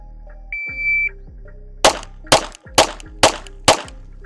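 Five sharp, loud pistol shots from a ported handgun fired at a range, spaced about half a second apart after a brief electronic beep, with no talking.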